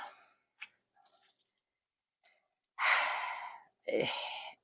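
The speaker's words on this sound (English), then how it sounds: "I will set it in the rinse water, I went ahead and filled up my sink with cold water" Cotton yarn is lowered into a sink of cold rinse water: soft splashes and small drips, then two longer bursts of sloshing water, close and fairly quiet.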